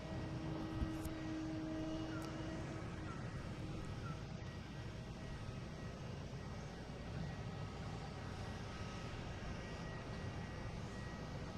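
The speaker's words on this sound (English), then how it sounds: "here comes JetBlue and A220 over Castle Island" Distant steady roar of a JetBlue Airbus A220 airliner on approach to Boston Logan over Castle Island, a broad low engine rumble holding throughout at moderate level with outdoor ambience.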